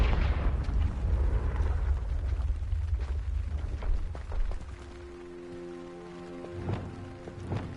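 A Confringo blasting curse explodes in Hogwarts Legacy, a loud low rumbling blast that rolls and crackles for several seconds before fading into quieter game ambience with a faint tonal hum.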